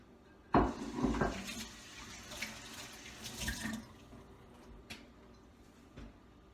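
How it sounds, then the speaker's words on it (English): Hands are washed under a running kitchen tap while preparing pork: a steady rush of water with splashes and a few clunks, close and fairly quiet, fading after a few seconds. "I wash my hand thoroughly"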